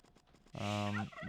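Turkeys gobble in an Age of Empires game map: one loud, close, tonal gobble bursts in suddenly after quiet background sounds, sustained for about half a second before trailing off into lighter chatter.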